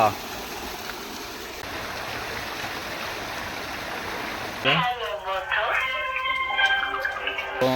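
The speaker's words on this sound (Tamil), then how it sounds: "ஃபைனலாக மருந்துலாம் அடிச்சுட்டு குளிக்கிறோம் நண்பா மோட்டரில் பம்பு செட்டில்" Water gushes steadily from a farm motor pump set, a loud continuous rushing flow that carries on as voices begin talking partway through.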